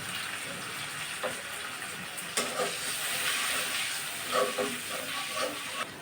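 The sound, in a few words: water added to frying onion, garlic and prawns, sizzling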